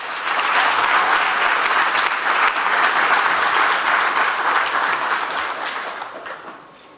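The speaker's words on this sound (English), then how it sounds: "Let us give them a round of applause." An audience applauds at an awards ceremony for outstanding CXC examination results, with a broad, steady wash of clapping that lasts about six seconds and then tapers off. No one speaks.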